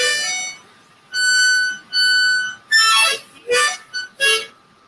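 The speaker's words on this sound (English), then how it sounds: "And that sounds like this when you suck in" Drawing breath through a Hohner harmonica in A produces several reedy chords, two longer held tones followed by a run of quicker, bending notes, played up close with no talking.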